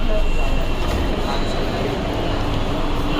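A Mumbai metro train pulls into the D N Nagar stop with a steady loud rumble and hum that runs the whole time, a constant ride noise with no breaks.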